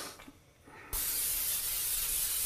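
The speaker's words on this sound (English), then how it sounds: "We're gonna get some Pam, don't use butter, use Pam, something that's like a non-stick cooking spray" Pam non-stick cooking spray hisses steadily onto a heating pan, a continuous bright spray lasting a second and a half after brief quiet, close and even in level.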